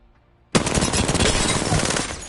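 After a moment of quiet, an assault rifle in Apex Legends opens up on a training dummy and empties its full magazine in one rapid, unbroken, loud burst of automatic fire, with no voices.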